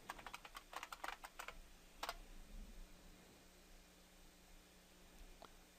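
A password is typed on a computer keyboard at a login screen: a quick run of soft key taps, then a couple of isolated presses, faint and close against quiet background hiss.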